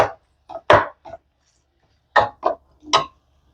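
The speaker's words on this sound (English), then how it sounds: "I cut my onions up like they cut them up for a Big Mac." A knife chops onions on a cutting board, finely cut for a Big Mac-style tater tot casserole, in short bursts of sharp, close thuds: a cluster of three or four, a pause, then three more.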